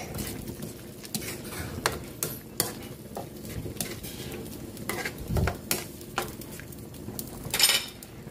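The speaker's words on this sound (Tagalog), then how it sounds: "Lagyan na rin natin konting pampalasa, bechin. Haluin lang natin." Seasoning being stirred into pork and mushroom in a pan, with repeated close scrapes and taps of a utensil against the metal over a soft sizzle, the strokes coming in an uneven rhythm throughout.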